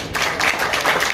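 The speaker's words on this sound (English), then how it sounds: "Can we please give them a round of applause?" A small crowd at a boxing weigh-in claps briefly, a quick burst of several hand claps at close range, fairly loud.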